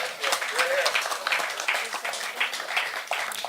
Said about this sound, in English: I think it deserves another round of applause